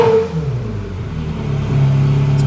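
A Ferrari 360 fitted with a Gruppe M intake is held at about 4,000 RPM, giving a steady, fairly loud engine drone with a sustained tone and no talk over it.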